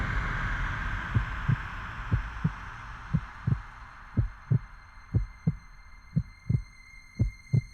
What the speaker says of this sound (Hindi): आपकी दिल की धड़कन हम सिर्फ महसूस ही नहीं बल्कि सुन भी सकते हैं